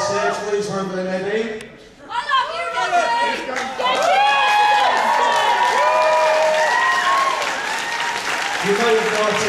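Audience applause and cheering for the organizing committee at the opening of Kitacon 2011, a convention crowd; clapping swells after a brief lull, mixed with whoops, chatter and laughter, and a voice speaks over it near the start and end.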